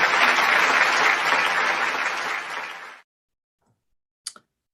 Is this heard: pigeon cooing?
no